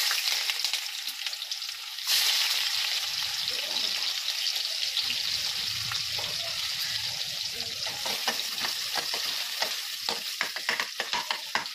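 Onions hitting hot oil for gongura pachadi, a sudden loud sizzle that settles into steady frying crackle with stirring scrapes, close and continuous.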